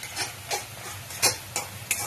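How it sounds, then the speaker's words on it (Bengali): Spice masala sautéing in oil for mutton curry, a low steady sizzle with a handful of scraping stirs of a spatula at regular intervals. "মশলাটা এবার প্রায় কষানো হয়ে গেছে, তেল ছাড়া শুরু হয়ে গেছে।"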